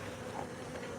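Bees buzz in a dense, steady hum around an open hive during honey extraction at night, close and continuous, with a few louder passes near the end.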